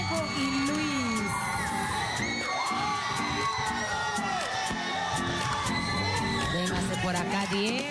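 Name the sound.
applause and cheering for Diego and Luis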